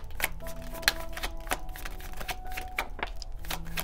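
Tarot cards being shuffled by hand, a run of quick papery riffles and flicks in close, uneven bursts, with no talk over them.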